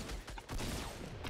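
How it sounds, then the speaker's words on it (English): Rapid bursts of video game gunfire in a shooter match, with dense, loud crackling shots hitting the player from close range in quick succession. "I'm being shot from behind"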